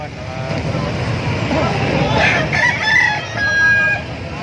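A rooster crows midway through, a drawn-out rising call above street noise, with a person talking nearby and an engine humming.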